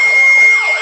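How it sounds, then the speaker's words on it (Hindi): An ambulance siren wails loud and close, a steady piercing electronic tone filling a brief burst with no voices. "चलो इसे एम्बुलेंस पर लेकर सहरसा ले चलता हूँ।"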